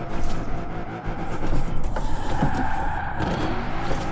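Peel P50 microcar reversing in Forza Horizon 4, a steady whining motor drone with faint mechanical creaks, continuous and moderately loud throughout.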